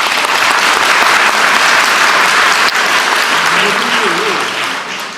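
Dense, steady crowd applause at a political rally in Gyeonggi Province, loud and continuous from a large audience, with faint voices underneath and a slight fade toward the end.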